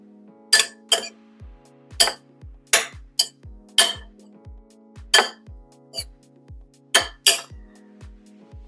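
A spoon clinking against a bowl while mixing tomatoes with Parmesan, a dozen or so bright, close metallic taps coming in an uneven rhythm, each ringing briefly, with no talk.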